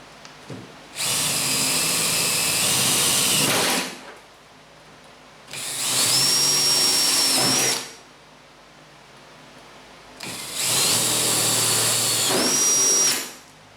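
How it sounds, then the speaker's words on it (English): A power drill runs at high speed in three loud, whining bursts of a few seconds each, with short quiet gaps between them, drilling holes to mount a boat anchor control. "Switch the drill to high speed and finish drilling the holes."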